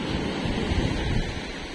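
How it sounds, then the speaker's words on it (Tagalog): Big ocean waves surge and crash close by during high water, a dense, loud roar of surf mixed with buffeting wind noise on the microphone, with no voices. "Oh, mataas ang tubig. Ala, abot ka na. Kaya lalaki pala ng alon."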